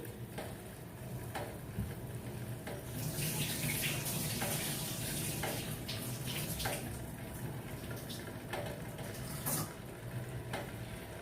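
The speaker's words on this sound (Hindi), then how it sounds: "अब मैं यहाँ चावल को अच्छे से ड्रेन कर लेती हूँ।" Water drained off soaked rice for chicken biryani in a home kitchen: a steady trickle and splash of pouring water, quiet and close, with intermittent clinks and rattles, and no voices.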